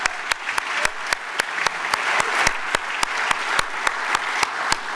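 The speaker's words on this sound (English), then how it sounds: "how about another round of applause for the Iwo Jima flag raising recreation, the historical unit of Southern California" Audience applause at an outdoor veterans remembrance event, continuous crowd clapping with a few sharp louder claps standing out, steady throughout.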